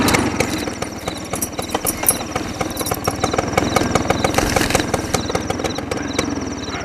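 A scooter engine runs steadily on a road trip back from a dinner invitation. The near, rattling putter has a rapid, even rhythm, with no talking over it.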